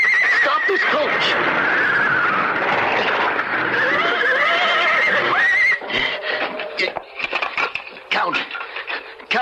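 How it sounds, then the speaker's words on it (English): Horses whinny loudly and wildly as a coach is pulled to a stop, shrill neighs over hoof clatter in a radio drama scene, then fading into broken bursts of movement. "The horses went wild."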